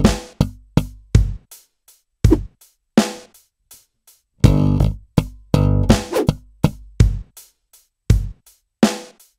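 Slap bass phrase in a stomp slap style, sharp percussive slaps and pops in a syncopated pattern with two muted slaps repeated, close and loud, with no talk.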